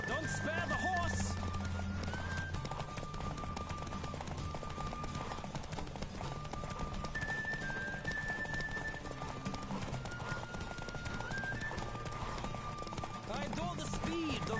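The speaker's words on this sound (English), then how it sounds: "Don't spare the horse!" Galloping horse in The Witcher 3 Wild Hunt, steady fast hoofbeats running throughout over game music, with brief whinnies at the start and end.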